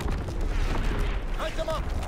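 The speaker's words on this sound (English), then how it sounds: "Incoming enemy artillery!" Incoming enemy artillery fire in Call of Duty: WWII, a dense continuous rumble of distant booms and blasts under battlefield noise, with voices shouting briefly near the end.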